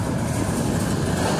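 Lengthy autorack freight train rolling past at close range, a dense steady rumble and rattle of railcars and wheels with no voices.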